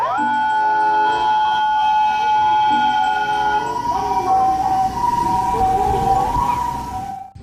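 A toy ambulance sounds its siren, a loud, close electronic wail that holds steady, then shifts to a rising and falling pattern before cutting off abruptly.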